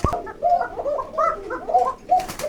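A caged Koka pigeon, a King Lahori or Basiraj type on a pigeon farm, coos in repeated throaty, gargling phrases that are near and clear, with a brief sharp click at the start and a hissy burst near the end.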